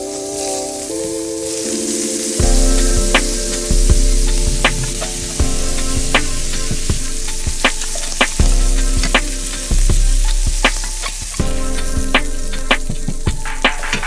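Shrimp sizzling loudly in a pan, a steady frying hiss punctuated by sharp crackles and pops throughout, with no talking.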